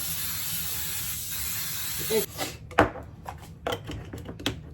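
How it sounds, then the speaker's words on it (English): A steady hiss of aerosol cooking spray on a cake pan for about two seconds, followed by several quick knocks and clatters as the can and pan are handled. "Spray your cake pan."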